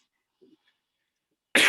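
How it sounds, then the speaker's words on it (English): A single loud, close cough bursts out at the end, harsh and breathy, from a man getting over bronchitis, after near silence. "excuse my cough."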